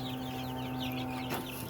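Cornish cross hens and egg-laying chickens in a flock of about thirty each cluck steadily and close by over a continuous low hum, with a brief louder squawk near the end.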